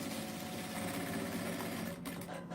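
A sewing machine runs steadily while stitching a seam on the ear of a plush bunny doll, a close, continuous whirring hum that holds for a couple of seconds before easing off near the end.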